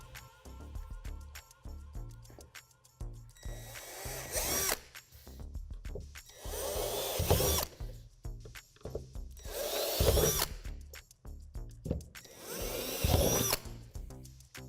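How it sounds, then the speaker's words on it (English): A power drill bores holes through a plastic playhouse wall in several short bursts with pauses between, close by and fairly loud, each burst rising as the bit bites in. "we're going to drill out 4 dimples with the drill bit provided"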